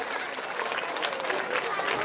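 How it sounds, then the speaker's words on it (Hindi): An audience at a school parents' celebration claps steadily in a dense, continuous wash of applause with crowd noise and voices underneath. "जोरदार तालियां हो जाए।"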